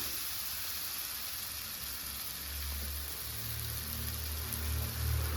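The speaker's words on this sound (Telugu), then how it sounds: "నూనె వేసుకొని తాలిపిట్టును చేతికి తీసుకొని వేసుకోవాలి." Thalipeeth flatbread sizzling steadily on an oiled pan over medium flame, a soft continuous hiss with faint low rumble, close and moderately quiet.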